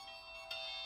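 A sonic seasoning sound designed to evoke sourness: sustained, bright, piercing high tones held steadily throughout, with a brief swell about halfway, alone and fairly quiet.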